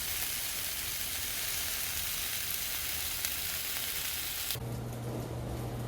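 Salmon kebabs sizzle in a skillet indoors with a loud, continuous, close hiss of frying that holds steady throughout.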